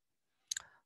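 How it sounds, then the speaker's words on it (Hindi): A computer mouse gives a quick double click while someone works in Excel; the two sharp, faint taps land close together in otherwise near silence. "ये शो फार्मूले पे क्लिक करेंगे"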